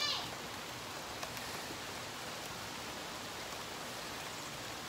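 Steady rain falling outdoors, a constant broadband hiss at moderate level with no clear breaks, near and even throughout.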